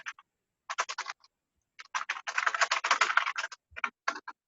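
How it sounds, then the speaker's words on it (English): Rapid clatter of keys on a computer keyboard, close and crisp, coming in uneven bursts with short pauses between runs of typing and no talk over it. "They probably typing."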